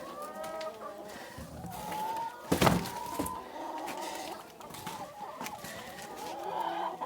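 Several hens cluck and squawk nearby in a busy flock, with a louder flurry partway through and faint voices underneath.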